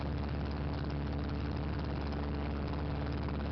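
A small propeller airplane rolls for takeoff from a grass strip near a gravel driveway, its engine a loud, steady, close drone with a constant low hum filling the whole stretch.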